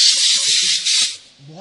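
Steam cleaner blowing a loud continuous hiss onto car seats during interior detailing, steady for about a second before tapering off.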